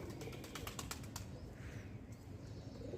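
A white pigeon takes off from a rooftop and circles, failing to land, with a quick burst of faint wing flaps at first, then quiet outdoor ambience.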